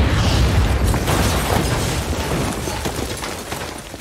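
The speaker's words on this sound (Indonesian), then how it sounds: "Kemudian bom yang telah disiapkan Lisa di mobilnya pun kini mulai meledak." A car bomb goes off with a heavy, booming blast, followed by a dense rumble and crackling debris that slowly fades.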